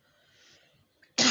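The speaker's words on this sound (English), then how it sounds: "Oh, why am I coughing?" A single short, sharp cough bursts out at the end after a near-silent pause.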